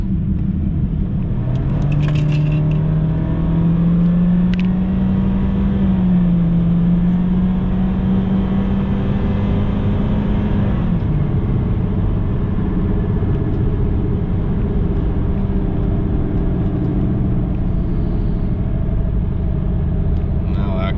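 A 2016 Honda Civic 1.5 turbo with high mileage hums steadily from inside the cabin as it accelerates out of a corner, a low, continuous engine drone and road rumble that rises then settles, with no talk.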